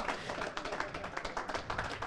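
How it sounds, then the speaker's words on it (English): Audience applause for the players at the IPA Worlds Mixed Doubles darts final, a dense run of many hands clapping close by, steady with small rhythmic swells. "Round of applause for both these players, please"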